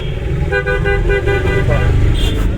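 Car horns honk repeatedly in busy road traffic, heard from inside a car during a driving lesson, with engine rumble underneath and brief talk nearby.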